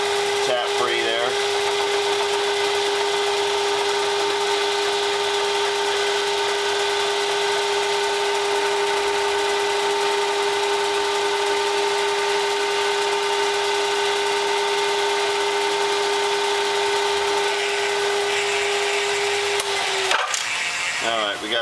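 A lathe-type machine turns a metal part for a BBQ support down to diameter, taking roughly 50 thousandths per pass with cutting oil, producing a loud, steady mechanical whine with a strong constant hum that stops abruptly near the end.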